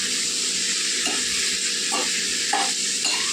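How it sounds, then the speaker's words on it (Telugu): Cluster beans fry in a pan with a loud, steady sizzle close by. A spatula stirs them in regular scraping strokes about every second. "బాగా కలిపేసుకొని వేగనిద్దామండి. కలుపుకుంటూనే ఉండాలి."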